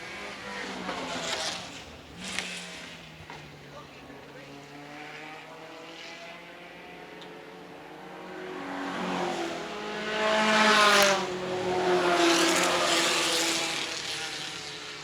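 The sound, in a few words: vintage Lotus 7 race cars running on track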